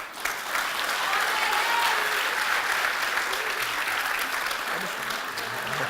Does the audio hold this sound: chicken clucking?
no